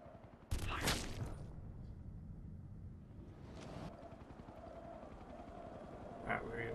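Gunfire in Ghost Recon Future Soldier: a sharp loud volley near the start, followed by a lingering rumble of battle ambience and a smaller shot burst toward the end.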